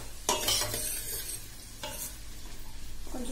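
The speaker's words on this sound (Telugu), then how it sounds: "ఆనియన్ ఫ్రై అవ్వాలి," Onions frying in a pan for pav bhaji, making a quiet continuous sizzle broken by a few scraping strokes of a spatula, heard up close and without speech.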